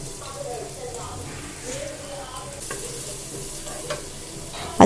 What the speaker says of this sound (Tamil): இப்போ வந்து நம்ம நறுக்கி வச்சுருந்த இஞ்சி, பூண்டு, பச்சை மிளகாய் இது 3த்தையுமே போட்டு நல்லா சாட்டே பண்ணுங்கள்.